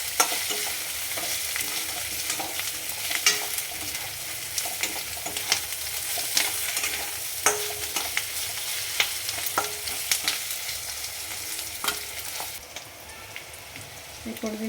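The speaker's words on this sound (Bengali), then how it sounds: "আর দেবো একটুখানি চিকেন মশলা পেস্ট। মিক্স করে নিচ্ছি।" Chicken masala paste is stirred into chicken frying in a pan, a steady hiss of sizzling oil broken by scattered spoon scrapes and taps, close-up with no talk.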